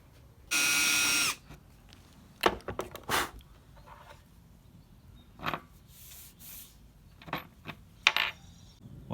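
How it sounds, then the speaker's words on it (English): A power drill bores into a wood panel for a tailgate table on an 80 Series Land Cruiser, with one short, loud whirring burst followed by scattered clicks and handling clatter, and no talk. "so now I'm just going to get the holes drilled."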